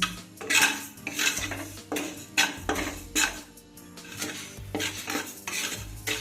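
Gobindobhog rice being dry roasted in a pan, stirred in a series of scraping, rattling strokes of utensil against metal, with faint grains shifting between them.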